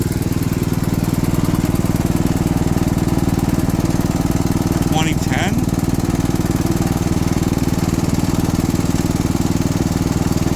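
A Poulan XT 12.5hp riding lawn tractor with a 38-inch deck runs at a steady, loud, unbroken drone, with a brief faint voice partway through.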